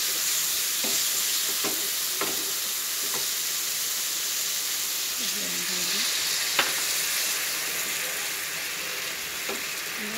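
Tomatoes cooking in a pan with added water for a vegetarian gravy give a steady, close sizzle and frying hiss throughout, broken by a few soft spoon knocks and stirring scrapes.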